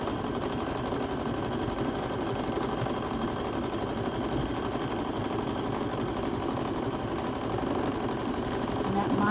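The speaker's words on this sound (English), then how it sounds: "I'm going to zigzag down it now and to secure that because it's going to be exposed" A home sewing machine zigzag stitching along the edge of a fabric apron, running as a steady, continuous mechanical whir with a fast, even rattle throughout, close and moderately loud.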